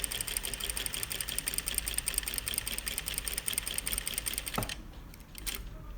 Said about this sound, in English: I'm going to stitch all the way up to this point and get my needle right in that.